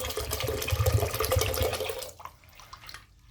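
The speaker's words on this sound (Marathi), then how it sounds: "आता आपण डाळी टाकल्यात कुकरमध्ये तर पाणी टाकून घेऊ" Water poured from a vessel onto mixed lentils in a pressure cooker for dal, a loud continuous close splashing gush for about two seconds that then tapers off into quiet trickles.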